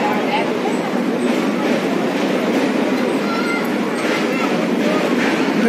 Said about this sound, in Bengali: ট্রেন যাচ্ছে, একটা ব্রিজ,